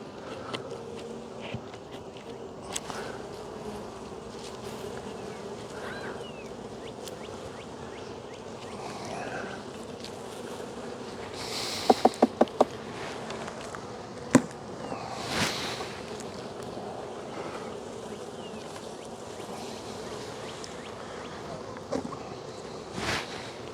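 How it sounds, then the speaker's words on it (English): Honeybees crowd the top of an overcrowded hive box during an early spring inspection, building comb. They hum in a continuous low drone throughout, with a few sharp knocks and handling clicks near the middle. "Got all the bees up there in that top of the box."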